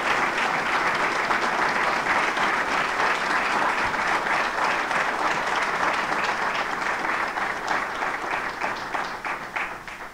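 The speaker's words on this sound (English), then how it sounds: "I want to just ask for a round of applause for Pat Miser." Sustained applause from a press conference audience fills the room, steady and dense for several seconds before tapering slightly at the end.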